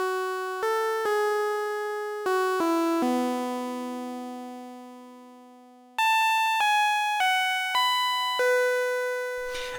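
A one-shot sample from a Mother 32 synthesizer, played chromatically on a sample player, steps through sustained notes at different pitches, each starting sharply and slowly fading, with no voices.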